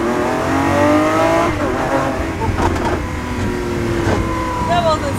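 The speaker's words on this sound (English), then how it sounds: "here we have the possibility to feel a little bit the power of the engine and the traction" A Lamborghini Aventador SVJ Roadster's engine pulls hard on a Monaco street circuit, a loud, continuous rising roar with shifting harmonics that swells and climbs throughout, with occasional voices underneath.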